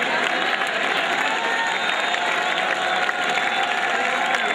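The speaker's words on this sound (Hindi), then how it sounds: "आप सभी श्रोताओं से खड़े होकर इनके लिए तालियों का सम्मान चाहूंगा।" Audience at a poetry recitation (kavi sammelan) event at IIT Roorkee giving a standing ovation to poet Alhad Bikaneri, steady dense clapping and crowd noise filling the whole stretch at a constant, fairly loud level.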